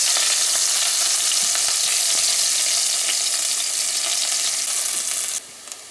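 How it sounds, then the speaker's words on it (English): Onions frying in a pan for stewed butterfish, a loud continuous close sizzle with light stirring scrapes throughout, cutting off sharply near the end; no voices. "So we're adding the onions first, as usual. Fry it up a little bit."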